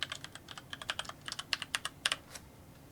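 Password typed on a computer keyboard: a quick, uneven run of crisp key clicks of varying loudness, close-up and isolated with no voices.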